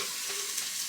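Potatoes and chicken fry in a pan, giving a steady soft sizzle with no talking.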